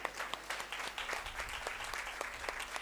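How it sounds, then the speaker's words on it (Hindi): Church congregation applauding during a Sunday sermon, a fairly faint patter of scattered claps with distinct individual hand strikes, steady throughout. "सब ताली बजाएंगे इस वचन के लिए"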